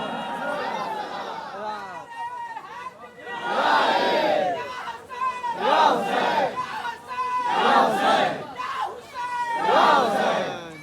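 A large religious gathering shouts back in loud, rhythmic bursts answering a slogan, several surging crowd chants separated by short pauses, close and forceful.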